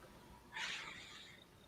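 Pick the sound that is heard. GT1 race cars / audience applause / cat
cat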